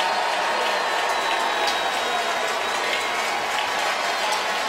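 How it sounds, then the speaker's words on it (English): Crowd noise in a football stadium at the 2017 Sugar Bowl, Auburn fans booing and Oklahoma fans cheering, forming a dense, steady, loud roar that fills the whole stretch without letup. "Tiger fans are booing. OU fans are cheering."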